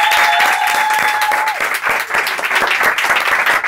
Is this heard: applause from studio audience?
yes